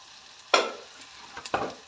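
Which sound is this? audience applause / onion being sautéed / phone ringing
onion being sautéed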